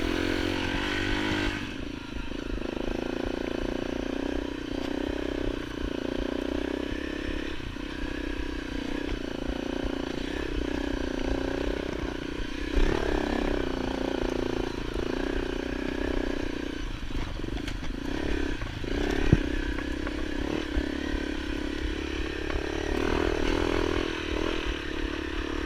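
A Honda CRF250L dual sport motorcycle climbs a tight, steep switchback on a Utah forest road, its single-cylinder engine droning steadily under load and rising at times, with gravel clatter and scraping throughout.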